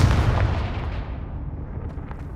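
A Confringo spell explodes in the video game Hogwarts Legacy, a loud booming blast with a rumbling tail that fades over about two seconds, heard alone with no voices.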